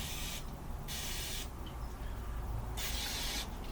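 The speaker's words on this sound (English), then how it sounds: "I'm going to try using some Pam on the inside of the mold" Three short bursts of Pam cooking spray hiss into a sushi mold over a low background rumble, each lasting about half a second.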